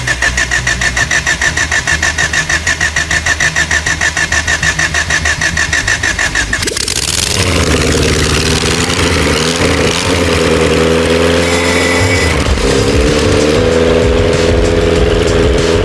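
An engine cranks, then catches about seven seconds in and settles into a steady, loud idle that keeps running to the end.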